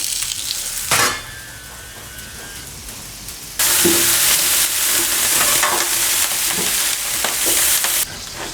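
Beef fat sizzles and spatters in a hot pan, a close, steady frying hiss that jumps louder midway as more fat goes in and keeps crackling.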